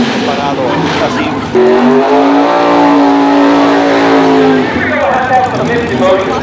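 Race car engine roaring loudly and near, with a sustained high-pitched tone that climbs as it accelerates past and then fades, while a voice talks over it.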